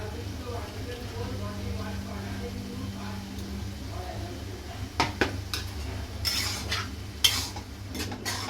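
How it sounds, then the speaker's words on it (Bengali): A utensil stirs spice paste into cabbage and meat in a pan, with soft scraping and clinks against the metal over a low, steady background hum. The clinks get sharper and more frequent toward the end. "মশলা দিয়ে ভালোভাবে নাড়িয়ে চাড়িয়ে দিয়েছি"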